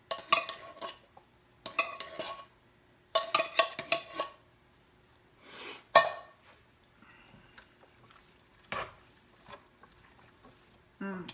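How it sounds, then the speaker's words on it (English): Black beans go into a pot of vegan chili already holding onions and peppers, with close clattering bursts of metal and liquid against the pot, several separate scrapes and clanks spaced by quieter pauses. "Okay, so I'm adding the black beans."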